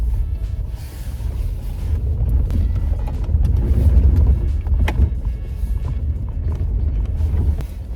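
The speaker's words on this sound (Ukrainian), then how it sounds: "їде машина" An Audi A4 B6 car drives past with a steady low rumble close by. The engine and road noise swell toward the middle, with a few brief clicks and rattles on top.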